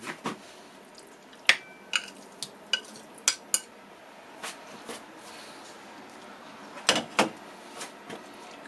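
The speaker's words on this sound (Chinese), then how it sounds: "那么蒸之前呢，我们要先把它拌一下" Garlic spare ribs for Cantonese dim sum are tossed together in a bowl before steaming, giving scattered light clinks, taps and soft scraping in an uneven rhythm, fairly close and quiet, without speech.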